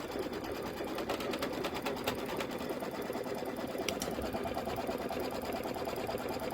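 Embroidery machine running a basting stitch to secure background fabric on a quilted pillow block, a fast steady mechanical needle rhythm heard up close and alone.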